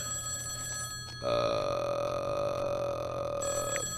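A telephone rings in the visual novel game Dear Devere, a sustained buzzy electronic ring that starts abruptly and holds steadily for over two seconds over faint background music before cutting off.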